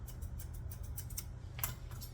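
Scissors snipping a dog's hair during grooming, a few quick faint metallic snips over a steady low hum, with one sharper cut near the end.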